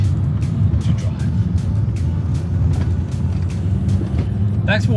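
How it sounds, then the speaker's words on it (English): A Suzuki Swift Sport hot hatch driven hard on a mountain road, its engine a steady, loud low drone with repeated short bursts of higher noise and a squeal near the end. "I am going to keep pounding this little car around this mountain road"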